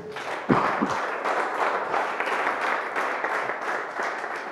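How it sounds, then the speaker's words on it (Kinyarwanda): A church congregation applauds during a service, a broad, sustained wash of many hands clapping together, loud and close, with a few sharper claps near the start. "Amashyi ku mwami wacu Yesu."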